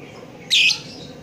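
A female lovebird gives a single short, sharp squawking call, close and loud, over quiet background noise.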